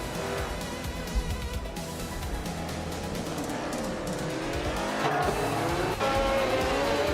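A Tyrrell 002 race car drives in a racing video game, its engine droning continuously with shifting revs, while tire squeals and other cars' engines layer in alongside.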